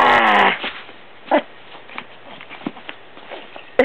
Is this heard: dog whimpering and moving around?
yes